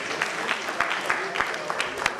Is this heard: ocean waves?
no